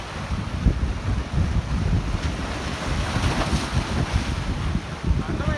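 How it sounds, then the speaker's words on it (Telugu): Strong wind and rough sea waves on a saltwater fishing outing, with heavy, continuous wind rumble buffeting the microphone and surf crashing close by throughout. "అలలు కూడా చాలా ఉన్నాయి ఇవాళ"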